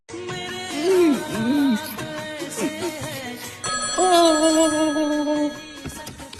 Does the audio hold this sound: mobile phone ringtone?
yes